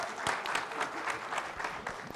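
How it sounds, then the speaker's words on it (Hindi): Audience applause at a Bollywood film music launch event, a dense sustained clapping from a crowd, fairly even throughout. "जोरदार तालियां।"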